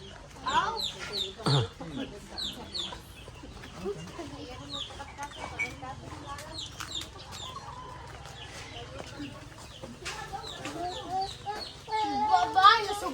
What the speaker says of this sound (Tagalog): Actually, birds!